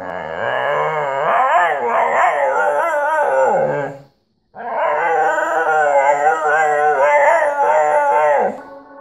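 A Norwegian Lundehund howls in long, wavering, yelping cries, loud and close, with a brief break in the middle before the howling resumes.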